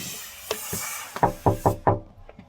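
Knocking on a door, a handful of sharp raps in a quick uneven series, close and loud, with no one speaking.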